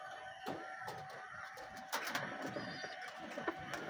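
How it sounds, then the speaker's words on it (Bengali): Pigeons in a loft, including a brooding bird on eggs, make soft cooing and rustling calls with scattered clicks and taps, moderately near and fairly quiet, with no talk. "আমার এই যে আরেকটা কবুতর এখানে ডিম নিয়ে বসে আছে।"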